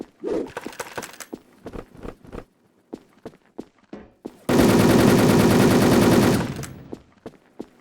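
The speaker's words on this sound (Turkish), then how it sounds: "Bu balkondan sıkıyor herhalde abi." Wolfteam firefight: scattered single shots and footsteps, then a loud sustained automatic burst of about two seconds that cuts off, followed by more sparse shots.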